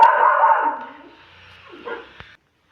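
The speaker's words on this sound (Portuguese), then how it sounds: "o meu cachorro, ele tava barulhando muito" A pet dog barks indoors: one loud, drawn-out bark or whine opens the moment, followed by quieter muffled yips and a short sharp knock, then silence. No one speaks.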